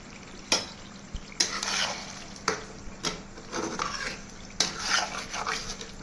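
Spiced goat liver being stir-fried with salt in a pan, with scraping and rubbing strokes of a spatula against the metal, sharp clinks at irregular intervals and a soft sizzle underneath, close and moderately quiet.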